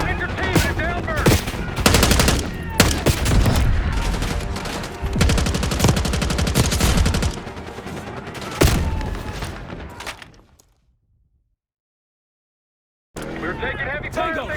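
Heavy automatic gunfire in Call of Duty Black Ops 6, loud dense bursts and rapid shots near a helicopter, with voices talking over it, cutting to silence for a few seconds before firing resumes.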